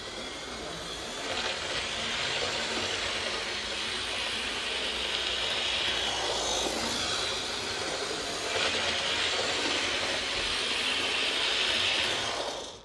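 A Lima model railway locomotive fitted with an upgraded Ringfield motor runs at top speed, giving a steady, fairly loud whirring hiss with faint rail rumble that holds continuously for about twelve seconds, close by, with no talking.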